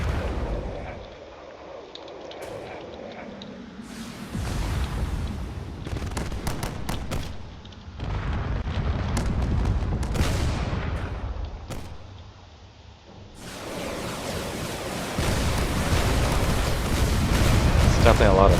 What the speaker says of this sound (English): You can see that all the cannon fire and missiles are proving to be lethal here